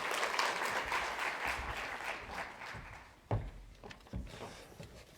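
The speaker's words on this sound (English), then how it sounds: "Please give a warm round of applause to the resident representative of the Hanns Seidel Foundation." An audience at a Hanns Seidel Foundation conference applauds, a dense, steady clapping that fills the room from the start, with a few louder thumps near the end and no speech.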